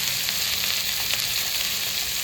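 Vegetables sizzle in hot oil with bay leaf, cardamom and cinnamon, a dense, even frying hiss that holds steady throughout without any voices.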